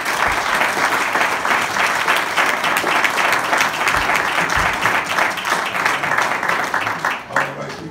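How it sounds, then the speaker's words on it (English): A church congregation applauds together in a dense, loud, sustained wash of hand clapping that fades slightly at the end. "Let's give the Lord a big hand clap."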